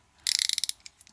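A ratchet wrench clicks rapidly as it loosens 10mm battery bolts on a 2004 Arctic Cat 90 ATV, a quick burst of crisp close clicks trailing off into a few slower ones.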